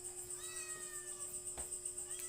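A cat gives a faint, drawn-out meow followed by another brief one, heard at a distance over a steady electrical hum and background hiss.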